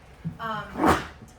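A single sharp, close sneeze bursts out after a short, voiced intake of breath, loud and abrupt before dropping back to quiet.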